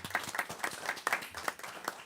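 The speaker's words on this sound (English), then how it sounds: "I think that deserves a round of applause." An audience at a school board committee meeting applauds, a steady patter of hand claps from a modest crowd, fairly close and unbroken, with no voices over it.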